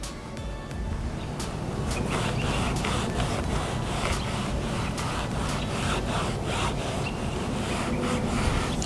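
Plastic and trim restorer is rubbed into car trim by hand, producing a close, continuous scrubbing and rubbing noise with repeated short strokes at a steady rhythm.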